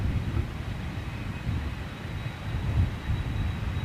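A WestJet jet airliner, an older smoky type, roars overhead as a steady low broadband rumble that swells slightly toward the end, with some wind buffeting the microphone.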